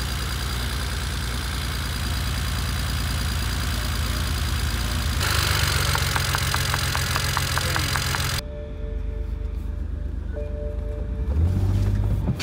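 A BMW 335xi engine idling in a garage, a steady close broadband drone whose tone shifts partway through, with no talking.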